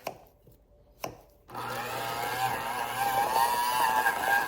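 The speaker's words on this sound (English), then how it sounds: "I'm going to attempt to blend this with the hand mixer" An old electric hand mixer, about 35 years old, whirs steadily as it blends cut-up butter for ricotta cookies, starting after two sharp knocks and running loud and continuous with a wavering motor pitch.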